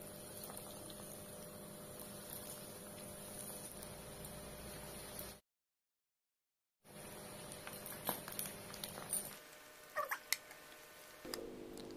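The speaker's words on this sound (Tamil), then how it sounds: "எண்ணெயில் போட்டு பொரிச்சு எடுத்துடலாம்" Egg lollipops deep-frying in hot oil, a steady close bubbling and sizzling hiss that cuts out briefly, then resumes with scattered pops and crackles, no voices over it.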